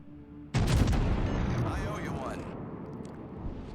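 Secondary guns of a Kaiser German battleship firing in World of Warships: a sudden loud burst of overlapping gun blasts that rumbles on and slowly fades, with crackling debris and game effects over it.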